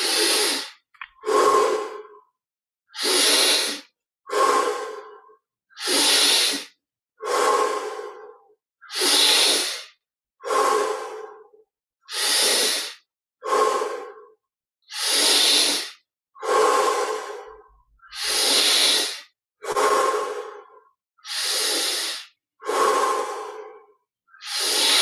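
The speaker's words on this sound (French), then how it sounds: "on respire 20 fois profondément" Slow, deep breaths during a guided meditation session, each long inhale and exhale clearly audible and close, repeating in a steady rhythm about every second and a half with no talking.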